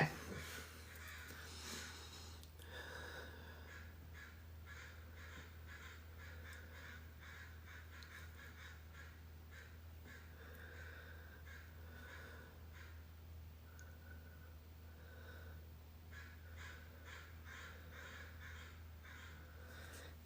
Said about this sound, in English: Those crows are going crazy.